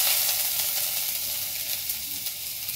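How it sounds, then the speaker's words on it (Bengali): Ginger garlic paste fries in a hot pan on a gas flame, giving a loud, steady, continuous sizzle and hiss from start to finish with no talking. "তো এবার আদা রসুনটাকে ভালো করে ভাজা ভাজা করে নেবে।"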